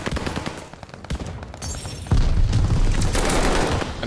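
Automatic shotgun fire with incendiary rounds in a video game comes as dense, rapid bursts of shots, loud and close, with booming impacts that build toward the end.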